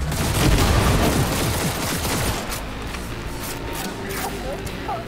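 Grenade blasts in Cyberpunk 2077 thud in as a dense, loud burst of booming explosions and gunfire for the first two seconds, then fade into a lower rumble with scattered distant pops.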